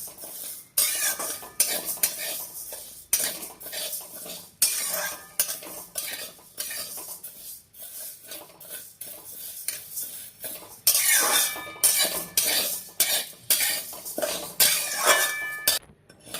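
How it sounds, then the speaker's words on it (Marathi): A bowl of mung dal dry roasting in a pan for chakli flour, stirred constantly, giving a dense, close rattle of scraping and clinking against the metal with a light sizzle underneath, nobody speaking. "चला तर आपण आता मुगाची डाळ भाजून घेऊया एक वाटी डाळ पण तशी हलकी हलकी भाजून घ्यायची"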